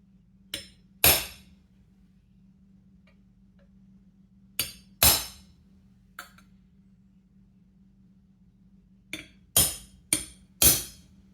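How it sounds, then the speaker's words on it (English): Sharp metallic hammer blows strike a punch to start a pilot hole in metal, in small clusters, about nine hits separated by quiet pauses, close and crisp against a faint steady hum. "So let me take my punch to get this started."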